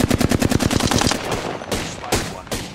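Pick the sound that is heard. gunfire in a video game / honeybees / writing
gunfire in a video game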